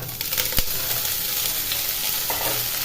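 Broccoli florets, drained of water, go into hot oil in a pan and fry with a steady close sizzle, with a brief sharp pop near the start and some light stirring scrapes.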